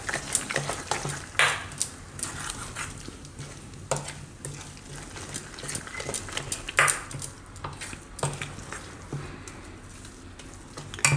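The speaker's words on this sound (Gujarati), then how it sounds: "ને મિક્સ કરી લેવું." Rava batter is stirred by hand with salt, Eno and a little water while a Gujarati breadless sandwich is prepared, giving a steady scraping and clinking of utensil against bowl with sharp clacks at intervals, close up and without talk.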